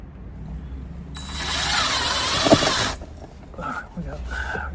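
A power drill drives exterior screws through a fixture into an outdoor wall, giving a steady whirring burst of about two seconds, with a voice talking in the quieter stretches afterward.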